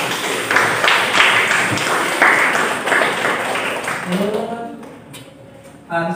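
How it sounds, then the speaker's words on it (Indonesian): A short burst of classroom clapping from students dies away after about four seconds, and then a teacher's voice speaks. "tepuk tangan untuk kita"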